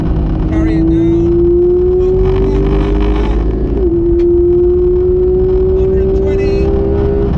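Porsche GT3 RS on the Silverstone circuit during a track day, its engine holding a steady loud drone in second gear with a slight pitch dip midway, continuous and close, with someone talking over it.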